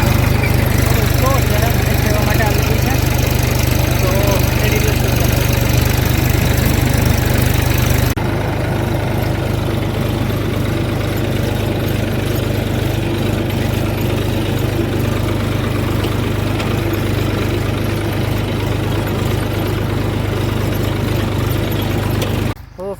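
A tractor engine runs steadily while plowing a field, a loud continuous mechanical drone that drops to a lower, rougher idle-like rumble partway through, staying constant until it cuts off at the very end.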